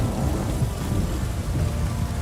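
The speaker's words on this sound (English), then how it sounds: "This downpour's a bastard, it is." Heavy rain in the video game The Witcher 3 pours down in a dense, constant roar, with deep rumbling underneath and no voices.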